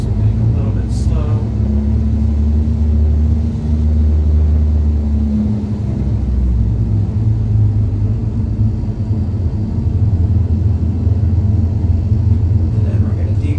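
Aircraft engine in Microsoft Flight Simulator 2020 throttling up on a crosswind landing approach: a loud, steady low drone and rumble that holds throughout, with a brief rise near the start.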